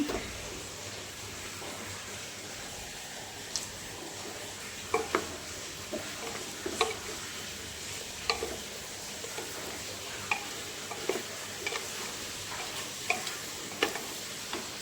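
Mutton and potatoes for mutton kosha being stirred and sautéed in a pan: a continuous hissing sizzle with scattered light scrapes and taps of a spoon, fairly quiet and steady throughout.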